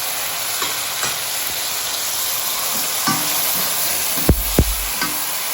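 Tomatoes go into a pan of mushroom adobo, which keeps up a constant hissing sizzle, with a couple of sharp knocks from a utensil against the pan near the end.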